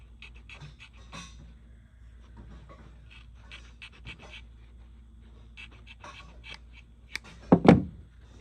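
Filter material for a Hoover Tempo U5146-900 vacuum is cut to fit, heard as scattered soft snips and rustles, then a louder crunching handling noise near the end, with faint breathing in between.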